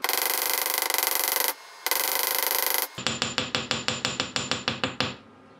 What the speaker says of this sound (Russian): Сначала расплющиваем гигантским молотком, затем маленьким.